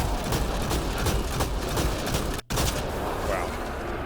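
Dense, continuous gunfire from weapons in Mass Effect Andromeda, a rapid fusillade of shots running almost without a break, loud and close, cut by one brief silent gap.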